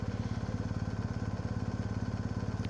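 Small engine idling close by with a steady, rapid pulsing throb that stays even throughout, loud and slightly overdriven.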